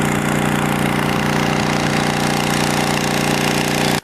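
Engine-driven water pump feeding a gold mining trommel, running loud and close with a steady pulsing drone that cuts off abruptly at the end.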